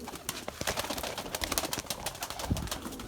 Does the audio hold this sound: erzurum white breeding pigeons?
yes